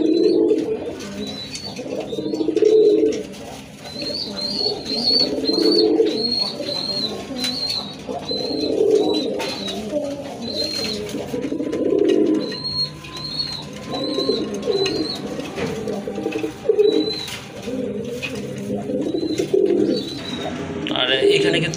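A pair of silver-coloured Golla pigeons coo in low, throaty, repeated bursts. Faint chirps and light fluttering come from the birds nearby, while someone talks over them for most of the stretch.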